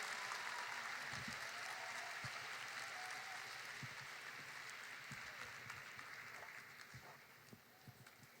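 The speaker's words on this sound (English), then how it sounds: "Let's give a big round of applause" A large arena crowd at a National Indigenous Peoples Day event applauds, a broad wash of distant clapping that gradually fades toward the end, with scattered sharper claps and faint voices mixed in.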